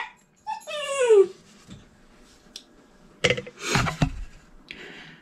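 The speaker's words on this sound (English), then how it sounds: "every time I talk to the camera, and she barks at me, thinking I'm talking to her" A dog gives a high rising whine, then a burst of sharp, close barks a couple of seconds later, with quiet gaps between.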